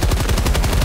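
Rapid automatic gunfire from the video game Helldivers 2, loud and close, a fast steady burst of shots in quick regular rhythm.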